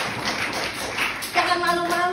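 A church congregation at a Christmas service claps together in dense, steady applause. The clapping carries on under a speaker's voice, and a burst of music starts near the end.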